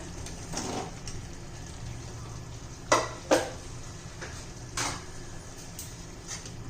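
Ridge gourd being stirred into hot oil and masala in a pan, a faint low sizzle under a few sharp scrapes and knocks of a spoon against the pan, spaced irregularly.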